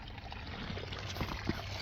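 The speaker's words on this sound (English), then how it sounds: "So the water comes out the bottom here" Water pouring out the bottom of a gold prospecting sluice on a riverbank, a steady close rushing trickle with faint splashes and low murmur throughout.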